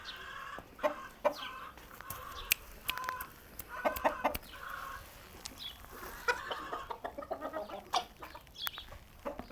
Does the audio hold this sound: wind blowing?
no